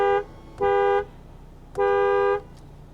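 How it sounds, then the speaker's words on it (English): A 2020 Honda Accord 2.0T sedan's horn sounding close and loud, one short toot then a second longer blast, each a steady dual-tone honk. "Now let's start the car and honk the horn."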